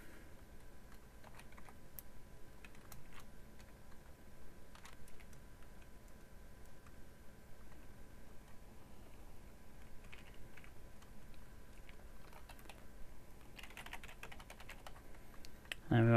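Computer keyboard typing a long command while programming an Arduino over serial, faint and steady with scattered key clicks across the whole stretch, no voice.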